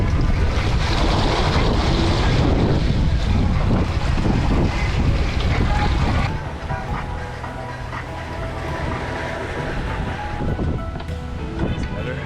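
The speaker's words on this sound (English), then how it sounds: "Decently windy, decently wavy." Sailboat under way at sea off Colombia, bound for Santa Marta, with strong wind buffeting the microphone and steady wash of waves against the hull, loud throughout and easing slightly in the second half.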